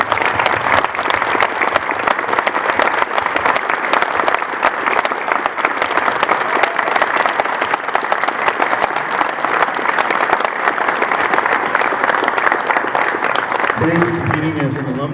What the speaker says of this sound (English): Everybody, if you'll join me in a round of applause.